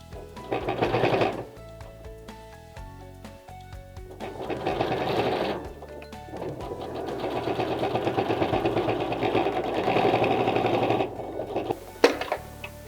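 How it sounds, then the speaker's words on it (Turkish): A sewing machine stitches fabric for a hair band in three motor-driven runs, a close, steady whirring hum with rapid needle chatter separated by short pauses, ending with a sharp click. "Diğer tarafa da aynı şekilde dikişimi yapıyorum."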